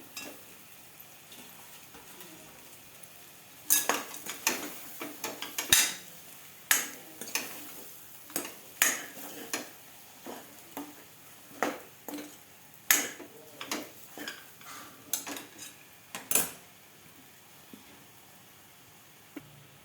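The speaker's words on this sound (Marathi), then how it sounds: "आता आपण वांगे पण फ्राय करून घेऊ चांगले तेलामध्ये." Stuffed brinjals frying in oil in a pan, with a spatula clinking and scraping against the metal in irregular taps over a soft, low sizzle, close by.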